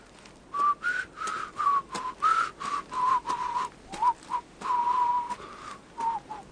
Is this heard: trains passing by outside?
no